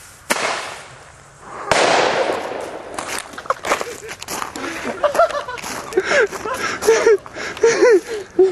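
Air bomb fireworks set off at a Halloween gathering, two sharp loud bangs early on with hissing bursts, then scattered pops and crackles while excited voices shout and laugh nearby.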